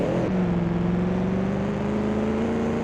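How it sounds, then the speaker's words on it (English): A steady, droning straight-eight engine of a 1934 Alfa Romeo P3 in the racing game Assetto Corsa holds a smooth, constant pitch, loud and close, with a brief rev at the start. "I really think the engine sounds are just wonderful."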